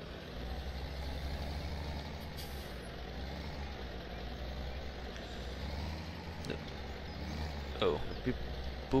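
A New Holland tractor engine in the Farming Simulator 2017 video game drones steadily at a low pitch throughout, with a brief hiss like an air brake near the end.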